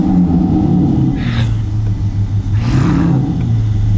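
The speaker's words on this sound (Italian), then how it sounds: "Sì, questa è una classe S Mercedes" Mercedes S-Class V8 fitted with a sound booster, revving in two rising bursts over a steady low rumble, close and loud.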